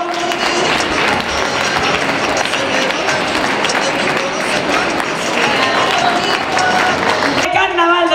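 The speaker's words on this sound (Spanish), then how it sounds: "Ese fuerte aplauso" Loud, sustained applause from a crowd at a carnival awards ceremony, continuous clapping filling the space with voices mixed in, cutting off abruptly near the end.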